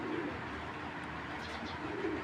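Soft, steady cooing of racing pigeons fills the clip, low throaty calls repeating close by with no talking.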